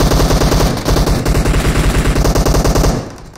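Sustained automatic gunfire in PUBG Mobile, a loud close continuous burst of rapid shots lasting about three seconds before cutting off.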